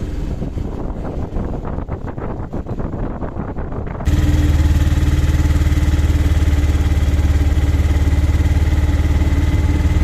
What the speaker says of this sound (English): Then we continued going up the hill, so enjoy the auto ride.